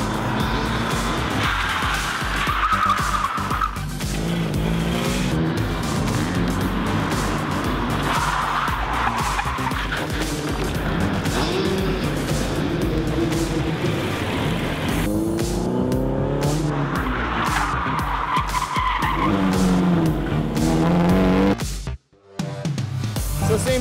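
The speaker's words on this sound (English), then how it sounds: "They'll be able to slide around the corner and be able to transition between drifts." A car drifts around corners on a drift-school course, tires squealing and skidding for long stretches over a steady engine roar, with a brief dropout near the end.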